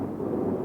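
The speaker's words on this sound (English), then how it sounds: "nice thunderstorm" Thunder from a thunderstorm rolls as a steady, dense low rumble, loud and continuous with no talking, captured on a 1990s tape recording.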